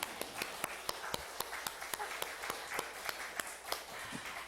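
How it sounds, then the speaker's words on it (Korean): Audience clapping in a church hall during a Sunday afternoon service lecture, a steady run of soft, evenly spaced claps heard from a little distance with no voices over it. "박수 한번 해주세요."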